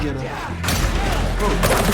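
Gunfire aimed at a flamethrower enemy in Warhammer 40,000: Darktide, a dense run of loud bursts and impacts that starts partway through, with game noise beneath.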